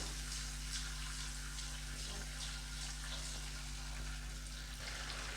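Paste of eight green chilies fries in a pan for a mushroom pepper masala, giving a steady, even sizzle with a low background hum throughout and no talking.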